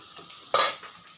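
Raw onions tipped into a hot pan, followed by a sudden loud sizzle and spatter of frying that stays close and steady, with a stirring scrape, for about half a second before easing down.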